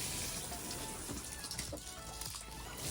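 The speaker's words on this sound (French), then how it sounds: "je vais venir prendre mon arrosoir d'eau et je viens arroser" Water from a watering can trickles and pours over freshly sown radish seeds, a soft, faint, steady splashing close by.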